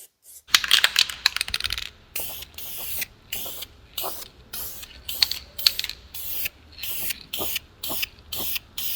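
Close aerosol spray paint hisses in a long burst, then in a steady rhythm of short repeated sprays, painting parts of a Buick Grand National.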